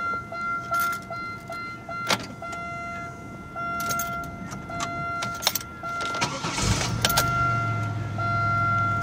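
Keys in the ignition of a 2002 Buick Regal LS: light metallic jangles and clicks over a steady cabin tone, a chime, then an engine-like hum rising near the end.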